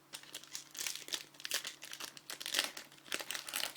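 Pokémon card booster packs being torn open roughly, with repeated close crinkling and ripping of foil wrappers in irregular bursts, fairly quiet and with no voices.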